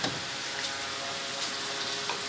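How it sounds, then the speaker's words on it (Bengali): Oil sizzles loudly and steadily in a frying pan where fish is being fried, a dense continuous hiss with no pauses and no voices. "মাছ ভেজে রাখছি"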